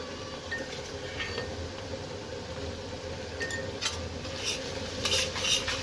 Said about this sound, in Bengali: পেঁয়াজটা একটু লাল লাল করে নেব